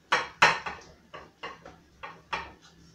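Chocolate peanut butter brownie batter being mixed in a bowl, a series of about seven distinct knocks and scrapes of a utensil against the bowl, close and fairly quiet, in an uneven rhythm.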